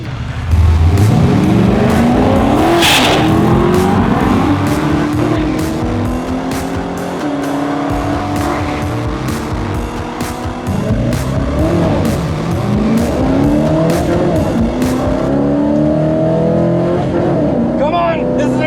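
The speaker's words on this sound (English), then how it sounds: "This car launches really good though." A car launches hard at a drag race event, engine revving loudly with rising pitch sweeps through several gear pulls, close and dominant, with people talking over it inside the car.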